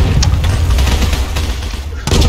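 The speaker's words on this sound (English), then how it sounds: "This fucking building is being bombarded. The grenade spam in this game is real." Grenade explosions and gunfire pound a building in a shooter video game, a dense, continuous barrage of loud booms and blasts with scattered sharp bursts throughout.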